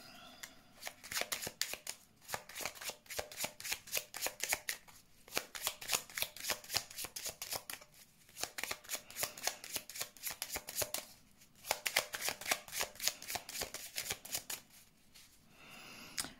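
Tarot cards being shuffled for a reading, a steady run of crisp riffling bursts that repeats in rhythmic passes with brief pauses between them, close and fairly quiet with no talking.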